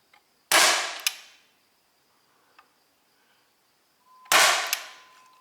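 A CO2-powered .177 caliber Hellboy air pistol fires two sharp cracks a few seconds apart, each with a short metallic ring, in a quiet outdoor setting with faint insect sounds.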